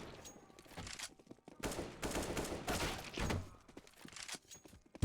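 Bursts of rapid automatic gunfire from a CS:GO warm-up session, several loud volleys in quick succession separated by short gaps and ending in a sharp final shot.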